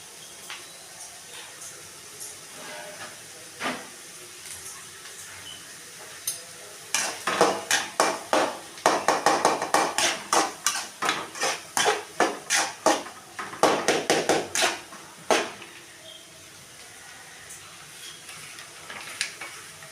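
Vegetables being stirred in a pan for egg rice, sharp rapid scrapes and clinks of a metal spatula against the pan coming in quick bursts over a low sizzle, with quieter stretches before and after the busiest stirring.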